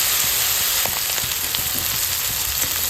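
Small marinated fish fry in hot oil in a wok, giving a steady, close, dense sizzle with scattered pops and crackles throughout.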